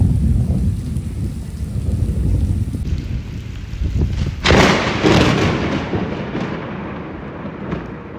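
Steady roar of heavy rain with a deep rumble of thunder swelling in the middle, then fading back into the downpour, during a storm while out fishing.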